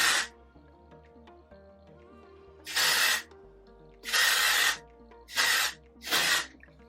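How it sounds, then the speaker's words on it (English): Texturizing hair spray from an aerosol can, four or five hissing bursts of about half a second each, close by, with light handling noises between. "So I'm just gonna shake it on up and just kind of spray it"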